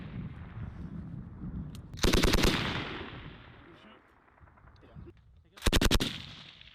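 Heavy weapons gunfire rings out at a US Marines live-fire exercise: two loud, rapid bursts of shots over a steady outdoor background, each lasting about half a second.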